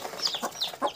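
Two-day-old poultry chicks in a farm brooder give repeated high, thin peeps and chirps, several overlapping calls close by with no talk.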